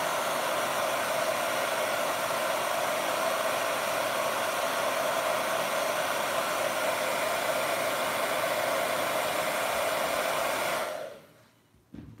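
A hot air tool blows steadily to heat an action figure part, a loud continuous whooshing hum that runs for about eleven seconds and then cuts off abruptly into near silence.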